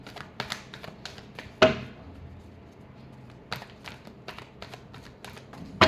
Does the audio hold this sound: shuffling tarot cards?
yes